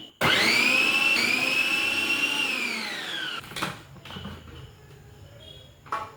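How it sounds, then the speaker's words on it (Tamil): An electric mixer-grinder slices onions in a home kitchen for onion pakoda: a loud, close motor whine runs steadily for about three seconds and then winds down, followed by a few quieter clatters and knocks. "அதனால் நான் மிக்சியில் இப்போ போட்டுக்கிறேன்"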